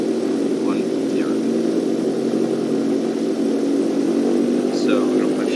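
Propeller aircraft engine in Flight Simulator X droning steadily while taxiing, a constant loud hum with a low rumble and no break, with faint cockpit chirps over it.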